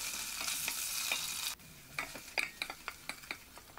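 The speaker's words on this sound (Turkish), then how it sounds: "1 yemek kaşığı domates salçasını ilave edelim ve kavurmaya devam edelim" Tomato paste fries in a pan with a dense steady sizzle for about a second and a half, then quieter frying broken by repeated scraping stirs, no voices.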